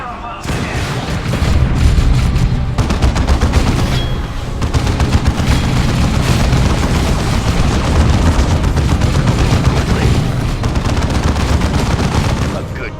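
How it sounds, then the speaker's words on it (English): Sustained heavy gunfire and booming impacts roll on loudly in a Warhammer 40,000: Dawn of War II battle, a near-continuous crackle of shots with voices now and then. "They fire on us again."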